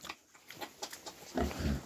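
Vietnamese pot-bellied pigs give soft snuffling grunts close by, a few short breathy bursts with a louder grunt near the end, quiet overall.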